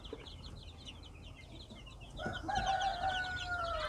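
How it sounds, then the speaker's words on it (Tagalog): Native chicks and week-old Rhode Island Red chicks in a free-range farm brooder give rapid, high peeping chirps, with a louder, drawn-out fowl call swelling in near the end. "So ito naman yung mga native na sisiw tsaka mga Rhode Island Red na napisa nung nakaraang linggo."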